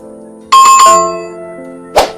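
A loud, bright bell sound effect rings out with a quick cluster of dings that fades, then a single shorter ding follows near the end.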